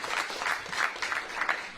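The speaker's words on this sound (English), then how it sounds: "If we can have another round of applause for the incredible performance" Brief audience applause following a string quartet performance at an evening event, a moderate, steady patter of many hands at middle distance.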